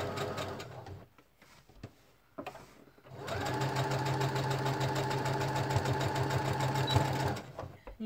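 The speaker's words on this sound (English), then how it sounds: "So I'm just sewing down all my little stitching lines." A sewing machine stitching lines on a paper-pieced quilt block: short bursts, then a long steady run of rapid mechanical stitching before it stops, with no talk.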